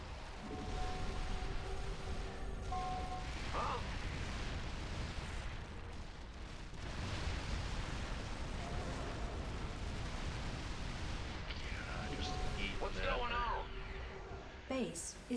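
Explosions and impact blasts during a base attack in the StarCraft 2 video game, a dense continuous roar of booms and bursts with game alert tones and music layered over it.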